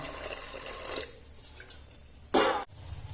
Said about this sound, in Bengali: দিচ্ছি পরিমাণ মতন জল।